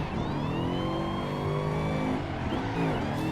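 A Toyota Supra's engine in a racing video game, a loud, steady high rev that holds and rises smoothly through the gears, with no one speaking over it.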